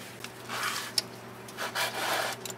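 An adjustable oil filter wrench on a socket grips and twists the oil filter on a 1996 Buick Riviera, making a few close scraping and rubbing strokes with a small metallic click between them.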